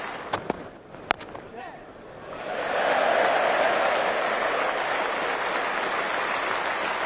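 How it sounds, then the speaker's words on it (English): Cricket crowd cheering a half century for batter Liam Plunkett: a few sharp thumps, then a swelling, sustained roar of cheers and applause that holds steady and loud. "A loud cheer for that half century for Liam Plunkett."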